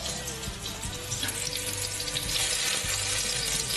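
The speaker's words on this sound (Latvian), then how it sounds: "Kamēr cepās gaļa" Steady crackling sizzle of meat frying in a pan, continuous and close, with a few soft clinks and no talking.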